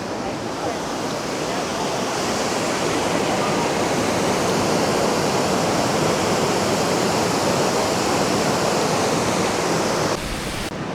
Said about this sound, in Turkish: mini şelale